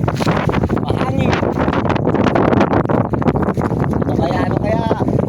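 Strong wind buffets the microphone in a constant loud roar, with rustling and splashing mixed in.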